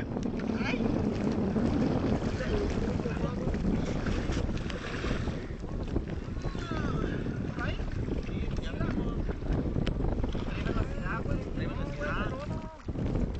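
A boat engine runs with water spitting from its exhaust, a steady loud churn mixed with splashing and wind buffeting the microphone.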